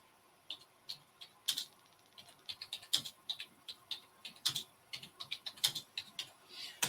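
Typing a web search on a computer keyboard: quick, irregular clicks of close, fairly quiet keystrokes in short bursts, with no talk.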